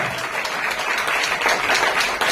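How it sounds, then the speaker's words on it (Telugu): Loud, steady clapping from a church congregation fills the whole stretch, dense and continuous with no break, swelling slightly toward the end. "బిగ్గరగా బిగ్గరగా బిగ్గరగా గట్టిగా చప్పట్లు"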